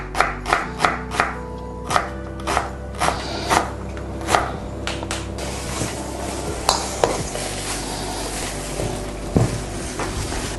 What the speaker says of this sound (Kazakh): Және пиязды майдалап фаршымызға саламыз.